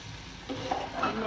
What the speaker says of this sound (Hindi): अब मैं इसको भून दूँगी।